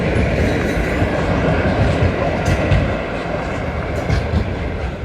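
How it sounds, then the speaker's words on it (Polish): A train rumbles past close by on an electrified line near the Pyskowice railway museum, Poland, a loud, steady roar of wheels and carriages that fills the whole stretch. "Jadą pociągi, ten akurat w kierunku Wrocławia."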